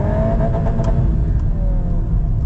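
A Volkswagen Golf R engine, set in manual mode, revs up toward redline from inside the car: a loud, steady mechanical drone with rising engine tones, held continuously throughout.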